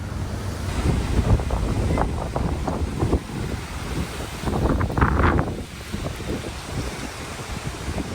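Strong wind buffets an outdoor microphone on a blustery day near Palmerston North, New Zealand, making a loud, steady roaring rumble that continues throughout.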